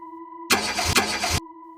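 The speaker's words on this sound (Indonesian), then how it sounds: "Mesinnya cuma bunyi starter tapi nggak ngangkat." A car's starter motor cranks without the engine catching, one harsh grinding burst of about a second over a steady background hum.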